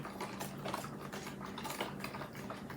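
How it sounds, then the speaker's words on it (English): A spoon stirring orange jello powder into a bowl of boiling water, a faint, continuous scraping and clinking of utensil against dish, quiet and close. "Give that a stir."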